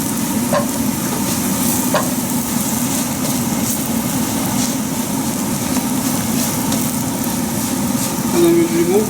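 Mushrooms fry in a pan for risotto, giving a steady close sizzle with occasional stirring scrapes throughout.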